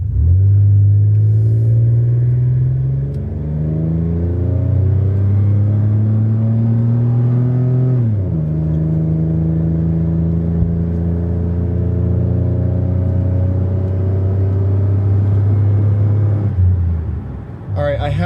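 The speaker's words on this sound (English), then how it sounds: "I'm gonna go ahead and do a high rev test." A small V6 car engine with an aftermarket exhaust revs loud and close, its tone climbing and dropping in long sweeps during a high-rev test before settling into a steady drone that fades out.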